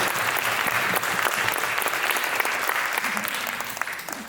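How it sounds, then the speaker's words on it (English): An audience applauding at an introduction event, a steady, continuous spread of many hands clapping at moderate volume, heard from across the room without talk over it. "So let's give Selena a round of applause."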